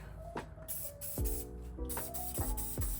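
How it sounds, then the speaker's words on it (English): PB Blaster penetrating oil is sprayed onto Honda Prelude suspension bolts and control arm bolts, several short faint hissing bursts in quick succession with brief gaps, close to the microphone and without talking. "I'm gonna start spraying some of the bolts with some PB Blaster"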